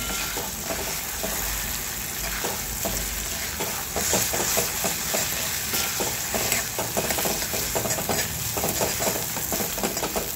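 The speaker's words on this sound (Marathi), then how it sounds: "गॅस थोडासा मीडियम करायचा आहे आणि याला छान परतून घ्यायचं आहे" Onion masala for egg bhurji sautés over medium heat in a close, continuous sizzle, broken by repeated rhythmic scrapes of a spatula stirring the pan, with no speech.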